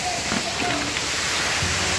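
Steady monsoon rain in Dang forest, Gujarat, a dense, even hiss of falling water near a waterfall, with a voice speaking faintly underneath.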